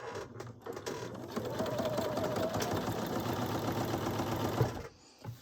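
A sewing machine runs steadily, stitching close to the fold of a double-turned hem on an up-cycled silk panel scarf, with a continuous mechanical whir that stops briefly near the end.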